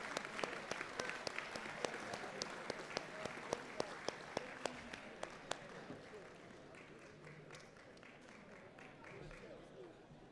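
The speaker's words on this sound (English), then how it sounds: "Let's have one loud round of applause for everyone who participated and the winners" Audience applause at the closing ceremony of the Vancity Cup in Vancouver, British Columbia: a broad wash of clapping with sharp individual claps standing out, fading after about six seconds into murmuring crowd noise and faint voices.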